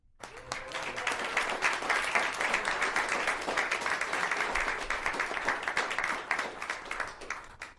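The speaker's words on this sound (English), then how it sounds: "Please join us for one more round of applause to our teams, our coaches, principals, and our family and friends" At a regular school board meeting, an audience gives a sustained round of applause for academic decathlon teams, coaches, principals and families. Many hands clap at full strength for several seconds before it fades.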